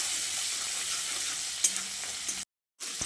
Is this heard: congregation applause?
no